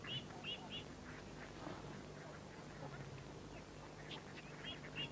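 Ducks, including Muscovy and Pekin ducks, quack in short bursts now and then on a lake over a low, steady outdoor hum, moderately distant, with no talking.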